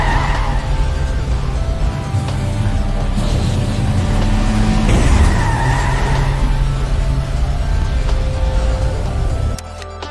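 In the Cobra 11 driving game, a car skids along, a loud continuous roar of engine and tire noise that surges midway as if sliding or scraping, then drops off abruptly at the end.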